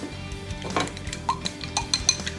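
Two eggs being mixed for egg fried rice, heard as close, steady clinking and scraping of a utensil against a bowl in quick irregular strokes, with no talking.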